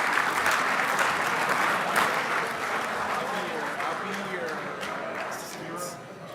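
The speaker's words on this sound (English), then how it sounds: "another big round of applause for those youngsters" A big round of applause from a banquet crowd at the 1/10 IFMAR RC car world championships awards, loud and steady at first, then gradually tapering off.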